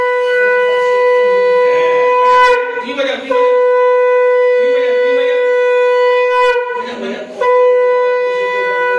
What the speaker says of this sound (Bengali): আর এদিকে পূজা শাঁখ বাজাচ্ছে